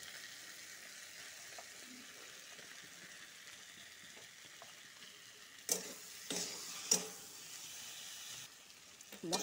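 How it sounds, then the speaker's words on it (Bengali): Spice paste for a potato and pointed gourd curry fries in a pan with a faint, steady sizzle, broken by a few louder stirring scrapes in the later seconds. "মশলার সাথে আবার ভালো করে ভাজবো"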